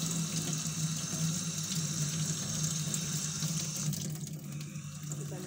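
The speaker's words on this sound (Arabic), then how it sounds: "الماء تيكون بارد من روبيني" Cold water runs steadily from a kitchen tap into a sink while calf brain is rinsed clean, a continuous even splashing stream throughout, close and fairly loud with no talk over it.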